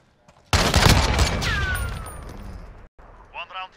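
A sudden burst of loud, close gunfire in Call of Duty: Modern Warfare (2019) opens the scene, then rings out and trails off. Voices come in afterward, near the end.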